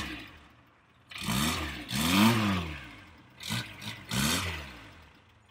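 1980s Citroen Visa L car engine heard from behind, revving in several distinct bursts rising and falling in pitch, with a quieter idle between them, close and clear with no talk.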